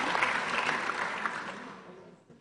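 Applause after an oath is sworn at a council meeting, a burst of steady clapping from the room that gradually thins and fades out.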